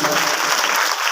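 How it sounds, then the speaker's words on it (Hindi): An audience at a Shrimad Bhagavat Mahapuran religious discourse gives a loud, dense burst of applause that holds steady through the short moment. "जोरदार तालियां"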